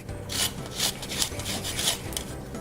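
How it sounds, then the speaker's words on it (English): A washed lemon is rubbed against a food grater to take off its zest, giving close, rhythmic rasping strokes that repeat roughly every half second with no talking. "And the food grater, you just grate it"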